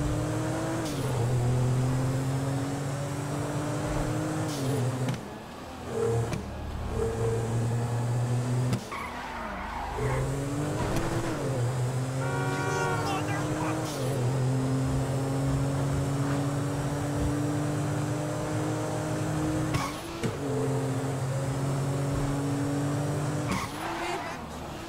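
A car in Grand Theft Auto 5 driven hard, with a steady loud engine roar, gear changes and repeated tire squeals and skids throughout, close and continuous.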